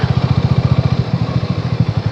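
Motorcycle engine thudding in a steady, rapid low pulse as the bike rolls slowly along a rough gravel stretch of the Sakharpa–Devrukh road bypass near Sangameshwar, close and continuous with no voices.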